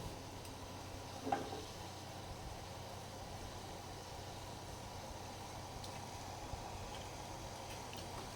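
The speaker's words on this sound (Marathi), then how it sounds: "पाण्याला उकळी आलेली आहे" Water at a rolling boil in a pot of salted water with oil and turmeric, ready for dal, a steady soft bubbling hiss with a brief clink near the start, faint and alone.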